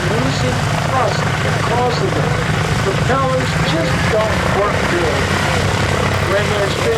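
A WWII-era propeller aircraft runs loud and close, with a continuous heavy engine and propeller drone and rhythmic rasping pulses from the propeller tips. Crowd voices and talk are mixed in throughout.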